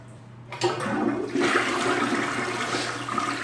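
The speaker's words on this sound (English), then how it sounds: "Toilet flush is fine." A household toilet flushes nearby with a sudden rush of water that swells into a loud, steady gushing swirl and carries on to the end, with no voices.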